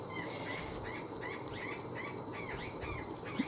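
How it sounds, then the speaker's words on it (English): Birds call and chirp outdoors in a faint, steady background, with scattered short calls repeating throughout and no one speaking. "Birds are very active outside today"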